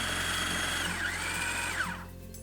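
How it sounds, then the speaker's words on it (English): A blender whirs through a sticky mixture of hemp protein and dates, its motor pitch wavering under load before it quickly winds down. "and then we're going to whiz everything up together"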